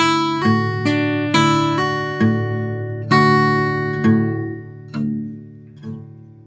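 A blues guitar line is played alone, a sequence of about eight plucked notes and chord strikes in a steady phrase, each attack ringing out and decaying, bright and close with no talking.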